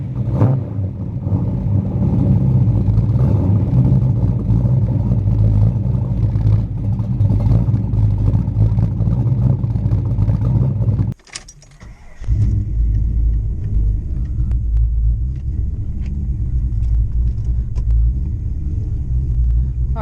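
A Ford Mustang rumbles steadily while driving, a loud low engine drone with road noise that briefly drops away to near quiet before resuming at the same heavy level.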